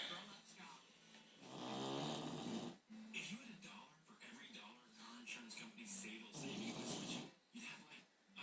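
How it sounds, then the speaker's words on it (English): A bulldog in deep sleep snores in slow, rough, rattling breaths, a few long nasal snorts close by and fairly quiet. "Peyton is snoring."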